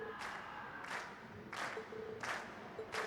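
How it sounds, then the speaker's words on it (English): Waves of crowd cheering swell and fade repeatedly in Trails of Cold Steel, several rhythmic bursts of roaring voices rising over a steady background hum. "we've heard your cheers loud and clear"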